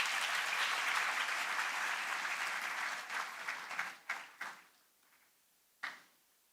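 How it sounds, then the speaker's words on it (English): An audience at a university orientation event claps loudly and steadily, then the applause thins out into a few scattered final claps. "So a huge clap for SOB for the ranks which they have got."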